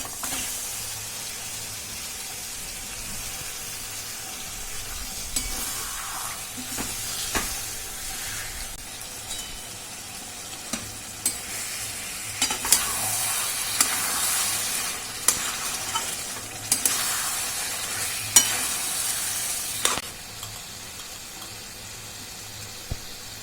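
Marinated jackfruit for a vegetarian curry fries in a pan with a soft, continuous sizzle, while a spoon scrapes and stirs in intermittent bursts close by. No one speaks.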